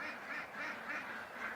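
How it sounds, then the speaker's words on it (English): Ducks gather on a lake and quack faintly in a steady stream of overlapping calls, distant and soft beneath a constant outdoor hiss. "There's a lot of ducks that stayed at the lake."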